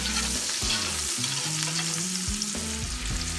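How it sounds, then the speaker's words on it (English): Summer sausage sizzles and crackles steadily in a hot pan, with a few scraping stirs of a utensil; close and continuous, no voices. "get the summer sausage in here and start frying it up"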